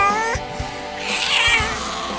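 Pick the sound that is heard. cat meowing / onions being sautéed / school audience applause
cat meowing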